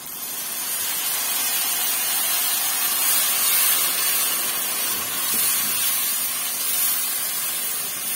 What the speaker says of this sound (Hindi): मसाले को मैं भून लूंगी तकरीबन 4 से 5 मिनट के लिए।